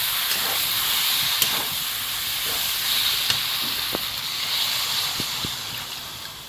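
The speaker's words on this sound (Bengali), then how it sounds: "কচুর ঢাকা খুলে নিয়েছি ফুটছে দেখুন কেমন" Taro curry with chilli and added water simmering in an uncovered pot, a steady steamy hiss broken by scattered soft pops and bubbles.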